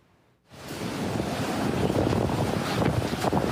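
Strong typhoon gusts hit a coastal island in a sudden loud roar of wind buffeting the microphone, rising sharply and then staying as steady, heavy rumbling noise.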